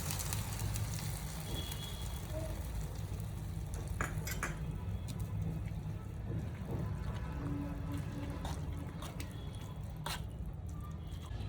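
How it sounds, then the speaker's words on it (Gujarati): Mustard seeds for a tempering sizzle and crackle in hot oil with scattered pops and a constant low hiss running underneath, audible in a kitchen while batter fritters are being made. "હવે આપણે રાઈનો વઘાર આમાં એડ કરી દઈશું."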